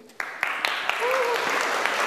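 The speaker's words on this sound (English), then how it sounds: "Round of applause, please." Conference audience at a free and open source software talk breaks into applause that starts as scattered claps and swells into a steady, fairly close round, with a short tonal sound heard faintly partway through.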